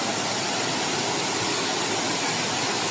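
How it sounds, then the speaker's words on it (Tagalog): Waterfall at Hinulugang Taktak, a steady, dense roar of falling water that fills the whole clip without pause, loud and close, with no voices. "There's the falls."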